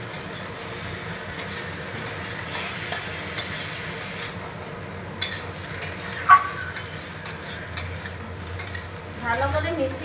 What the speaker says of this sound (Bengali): ক্যাপসিকাম কুচিগুলো দিয়ে দিচ্ছি। ভালো করে মিশিয়ে নেব।